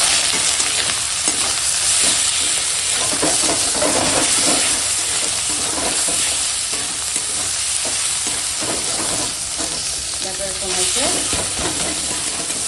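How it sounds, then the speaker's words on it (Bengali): Spice paste with melted tomato, turmeric and chili powder fries in a pan, giving a steady close sizzle and hiss with intermittent stirring scrapes throughout, no voices. "এখন মশলা কষানো হয়ে গেছে, টমেটো গলে গেছে।"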